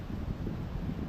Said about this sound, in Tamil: காற்று ரொம்ப பலமாக அடிக்கிற காரணத்தினால